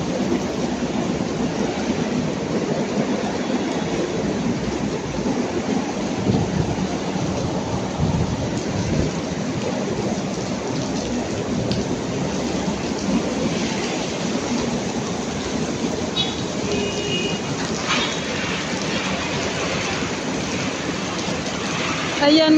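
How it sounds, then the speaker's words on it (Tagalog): Heavy rain pouring outside, a dense, steady roar that holds at the same strength from start to finish with no break. "Sa labas lang ulan."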